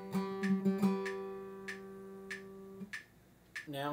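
Metronome clicking at double time, quicker evenly spaced ticks over sustained acoustic guitar notes from Blackbird, fairly quiet and close, with a brief voice breaking in at the very end.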